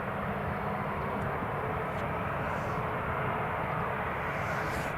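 A TUI airliner at Newcastle International Airport gives a steady, broad jet roar. The rumble is continuous and even, distant but filling, with no break for the whole span.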